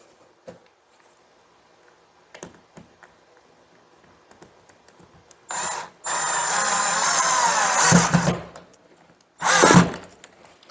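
A power drill drives a screw into a wall stud in two bursts, a long whine of about two seconds and then a shorter one, each loud and close, after quiet handling taps and clicks.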